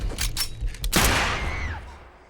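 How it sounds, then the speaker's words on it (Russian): A gunshot inside a cabin in the 2023 thriller film Knock at the Cabin, a sharp loud crack following a few rapid bursts, then a ringing decay that fades out. "Вот этот выстрел в хижине должны были услышать все"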